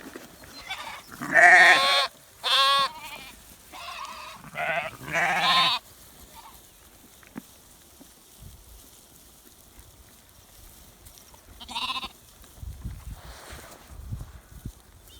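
Welsh ewes and lambs on a farm bleat in a burst of several loud, close calls, then fall quiet before one more bleat and a fainter call, over soft outdoor background.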